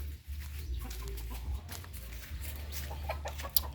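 A chicken clucks in a farmyard, soft intermittent calls over a low steady rumble, fairly distant and faint, with no speech.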